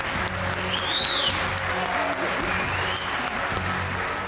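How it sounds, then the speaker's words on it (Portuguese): US members of Congress give Ukrainian President Zelensky a standing ovation in the chamber before his speech: a steady wash of crowd applause, heard at a distance with a voice talking over it. "Antes mesmo de começar o discurso, ele foi aplaudido de pé pelos parlamentares."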